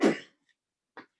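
A single sharp sneeze bursts out close by during a quiet lunch conversation, followed after a pause by a faint short sniff or breath.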